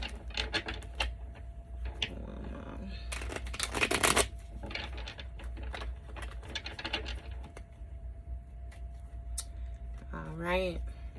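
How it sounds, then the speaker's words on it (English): A deck of tarot cards is shuffled in a brief burst of rapid riffling and patter, set among quieter clicks and handling sounds, with a steady low background hum. "I'm going to shuffle this deck"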